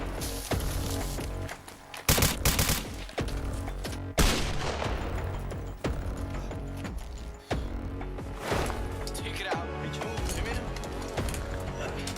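Airsoft guns firing in an old amateur recording, rapid bursts and sustained volleys of shots packed densely together, loud and somewhat distorted, with voices mixed in underneath.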